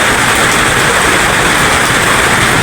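Heavy rain pours steadily during a flood, a dense, loud, unbroken hiss close to the microphone with no talking.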